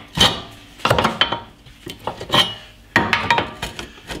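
Hammer blows on the control arm pin of an Opel Astra G during suspension repair, metallic clanks struck in irregular clusters of several hits with short pauses, close and fairly loud with no talking.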